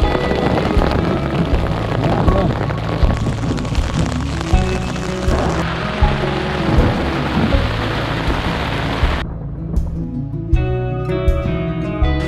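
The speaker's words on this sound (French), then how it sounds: "Là l'orage." Heavy rain pours steadily through a thunderstorm with rolling thunder, loud and close; the downpour eases near the end, leaving scattered drips.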